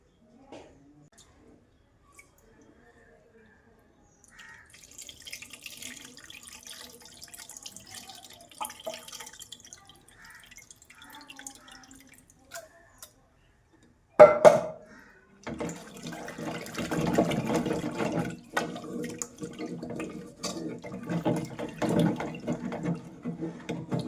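Tamarind water is poured into ground paste while cooking a raw tamarind stew with brinjal, tomato and curry leaves. Faint kitchen clinks come first, then a sudden splash and a steady, close pouring and sloshing.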